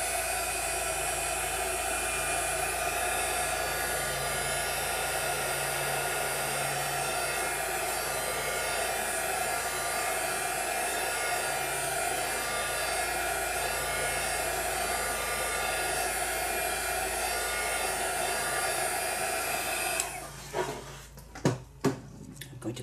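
A hair dryer blows steadily and loudly for about twenty seconds, drying watercolor paint applied through a stencil onto mixed media paper, then cuts off, leaving a few brief clicks and handling sounds.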